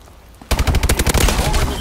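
Gunfire in the video game Call of Duty: Advanced Warfare: after a brief quiet moment, a loud, rapid automatic burst of shots rattles on to the end.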